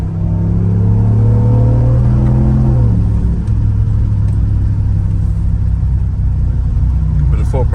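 A Ram TRX pickup truck engine rumbles loudly through its exhaust and revs up, pitch rising then settling into a steady deep idle, with faint talk in the background.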